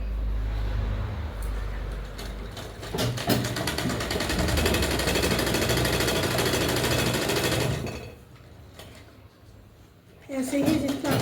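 A sewing machine runs a steady stitching seam on blouse fabric, a dense continuous mechanical whir for most of the clip before stopping abruptly, followed by a quieter pause and a brief voice at the end.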